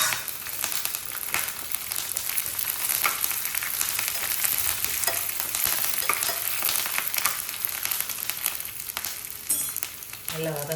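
Curry leaves sauté with crackling sizzles in hot oil in a pan for lemon rice, with a continuous close frying hiss, scattered pops and occasional stirring scrapes, with a brief faint voice near the end.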